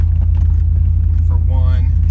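A truck cabin rumbles steadily while driving with a stiff ride, a constant low engine and road drone under someone talking.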